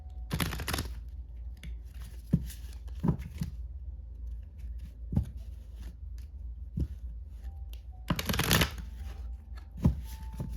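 Tarot cards being shuffled and handled in short, crisp bursts of riffling and flicking, close by, with quiet pauses between.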